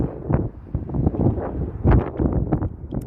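Gusty morning wind buffets a microphone on Las Vegas Boulevard during a walk, rumbling in uneven low surges and rustles that rise and fall in strength throughout, with no voices.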